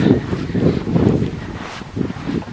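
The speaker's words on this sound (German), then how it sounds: "Man sieht, es ist sehr windig und kalt hier oben." Strong, cold gusting wind on a snowy mountaintop at -5°C buffets the microphone with a low, rumbling roar that swells and eases, with no voices present.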